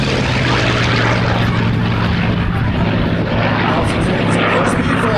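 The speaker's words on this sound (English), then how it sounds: "This is MAF Hellcat. Watch it fly." A Hellcat propeller fighter plane's engine drones loudly and continuously overhead at an air show, a rough throbbing roar that holds steady throughout.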